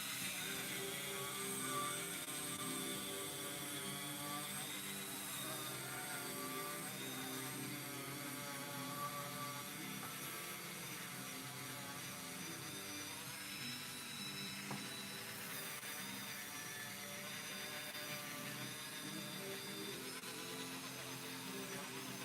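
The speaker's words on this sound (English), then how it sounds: "My Dremel tool I'm using here does have a foot pedal operation on it." A Dremel rotary tool with foot-pedal control sands a 3D-printed miniature, a high steady whine with buzzing overtones running close and continuous, with slight shifts in pitch as the pressure changes.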